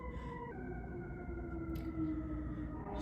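A fire truck siren wails continuously with a steady rising and falling tone, sounding moderately close against a constant low traffic rumble as the vehicle passes.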